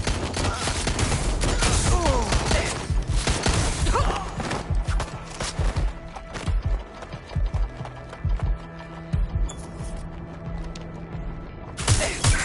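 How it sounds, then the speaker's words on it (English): Dense gunfire bursts and sustained shooting in the video game Watch Dogs: Legion, loud and chaotic at first, then sparser shots with a final loud burst near the end. "Shots fired!"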